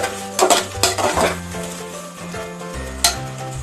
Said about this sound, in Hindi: एक बार इसे मिक्स कर लेते हैं।